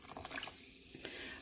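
Lime flavored sparkling water is poured over apples in a baking dish, giving a brief, soft fizzing splash close by with no talk.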